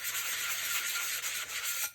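Sandpaper rubbing steadily across a powder coated stainless steel tumbler, a close, continuous scratchy hiss for about two seconds, with no talk.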